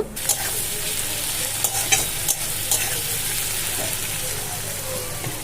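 Whole cumin, dried red chili and onion sizzle steadily in hot oil for a ghugni masala, with a continuous close frying hiss broken by a few sharp clicks of a spoon against the pan.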